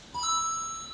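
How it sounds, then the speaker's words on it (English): A course timer gives a single short electronic completion chime for a finished obstacle, a bright, sustained tone in a quiet space with no talking. "When you complete an obstacle, it will sound like this."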